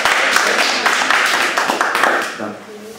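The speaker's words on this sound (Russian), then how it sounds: "Аплодисменты, браво." Applause from an audience at a managers' school session in Slobozia, a dense stretch of many hands clapping close by that thins toward the end, with voices mixed in.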